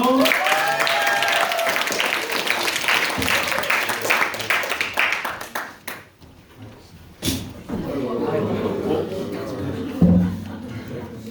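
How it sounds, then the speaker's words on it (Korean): Applause from a church congregation welcoming performers for a special song, a dense burst of clapping that thins out and fades, with voices and a few knocks and shuffles afterward. "큰 박수로 맞아주십시오."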